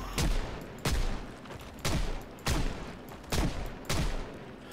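Rapid bursts of gunfire in the video game Project Zomboid fire in about six evenly spaced volleys, loud and close, with a crackling edge between shots.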